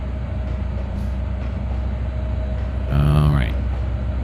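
A locomotive running in the video game Trainz 2022 produces a continuous low mechanical hum and rumble, broken near the end by a brief, loud tonal blast like a horn, with speech over the top.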